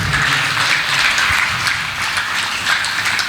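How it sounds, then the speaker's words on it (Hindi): In church during a sermon, the congregation claps loudly and steadily, a dense, continuous wash of applause throughout. "ताली मारो जोर से"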